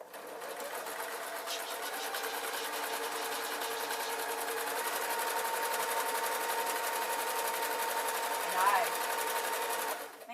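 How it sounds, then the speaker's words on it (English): A sewing machine stitches the lining of a pair of trousers in one continuous run, a fast steady whirring hum close by that lasts throughout with a slight swell near the end. "we're sewing on the wrong side and lining it up. Nice straight stitch."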